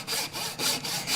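A hand saw cuts the cheek of a wooden tenon for a hand-made mortise and tenon joint, with several quick, rhythmic rasping strokes heard up close and no talking.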